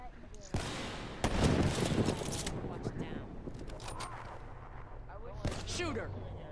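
Sniper rifle shots in Call of Duty: Black Ops III, with a loud, booming crack near the start followed by another heavy blast and a later shot, each ringing out over players chatting.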